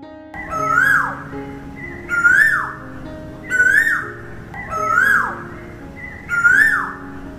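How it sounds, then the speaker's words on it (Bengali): An Asian koel calls in a Bengal springtime setting: five loud, evenly spaced rising whistled notes, each about a second long and separated by short pauses. No other sound competes. "কোকিলের ডাক বসন্তের আগমনী বার্তা নিয়ে আসে।"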